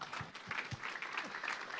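A conference audience applauding after a startup pitch at a tech summit: steady, fairly faint clapping from a crowd, continuous throughout, with a few low thumps near the start.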